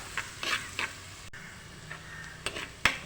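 Chopped garlic and green chillies being sautéed in a pan, with quiet sizzling under a few soft spoon scrapes and stirring clinks against the metal.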